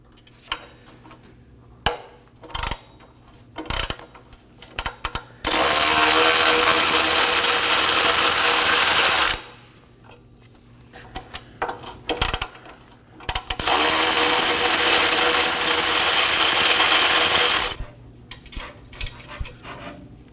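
Two long, loud bursts of a power tool work 13mm exhaust flange nuts on a 2013-2022 Chevrolet Trax, each lasting about four seconds, separated and surrounded by sharp metallic clicks and clanks of tools.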